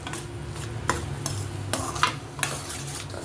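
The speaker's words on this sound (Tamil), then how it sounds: "இந்த மசாலா எல்லாமே பச்சை வாடை போகிற மாதிரி நல்லா வதக்கிடணும்" Masala frying and being sautéed in a pan, with steady sizzling broken by sharp scrapes and stirs of a spoon against the metal, close and fairly loud, with no voices.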